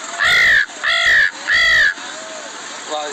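A boy imitates a crow's caw with three loud, harsh calls in a steady rhythm, followed by a brief quieter voiced sound at the end.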